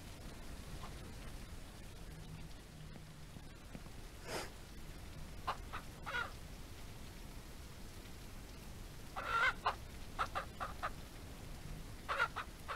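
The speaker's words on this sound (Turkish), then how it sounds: "Çok yiyor bu tavuklar ya." Chickens in the farming game Ranch Simulator cluck in short, scattered bursts with a few bunched calls near the end, over a steady soft background hiss, with no talking.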